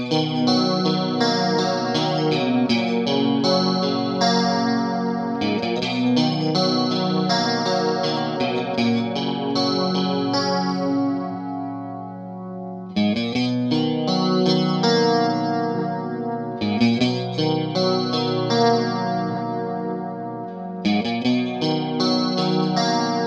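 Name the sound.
guitar through Boss Dimension chorus pedal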